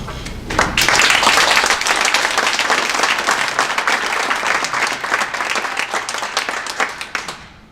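Applause from the audience at a political district forum, a loud, dense wash of clapping that swells quickly and holds steady for several seconds before tapering off.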